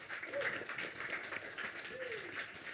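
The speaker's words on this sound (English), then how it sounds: "So I think just a major round of applause for our panel." Faint applause from a festival audience for a panel on creativity, career and mental health at Bass Coast, a soft, distant wash of clapping with a couple of whoops or cheers mixed in.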